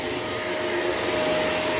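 A Shark LA702 Lift-Away vacuum cleaner runs at close range, producing a loud, unbroken motor roar with a high-pitched whine.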